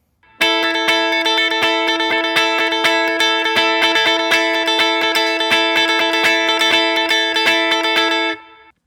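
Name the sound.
guitar playing lead line of a song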